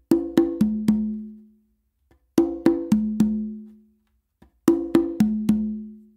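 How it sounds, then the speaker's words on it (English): Three repeated groups of four conga strokes in a Danny Thompson tumbao, two sharp open slaps on the conga followed by two resonant open tones on the tumba. Each group rings out and then pauses before the next, loud and close with no talking. "So it's going to be two open slaps with your non-dominant hand on the conga."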